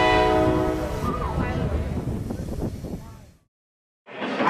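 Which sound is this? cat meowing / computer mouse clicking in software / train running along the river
train running along the river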